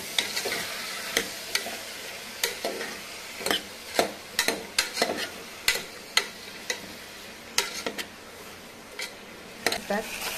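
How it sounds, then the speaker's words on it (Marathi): Val papdi beans and onion stirred in hot oil in a pan, with a soft continuous sizzle broken by repeated sharp spatula scrapes and taps against the metal, with no talking. "आणि वालपापडी आणि कांदा हे सोबत तेलामध्ये परतून घ्यायचं।"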